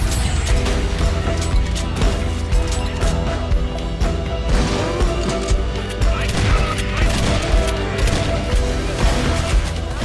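Shotgun blasts against zombies in a video game, with repeated sharp bangs and crashing impacts within a dense, loud game soundscape that continues throughout.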